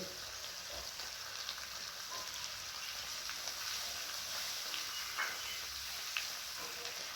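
Chicken do-pyaza masala with whisked yogurt sautéing in a pan, giving a steady close sizzle and bubbling with a few faint stirring scrapes throughout.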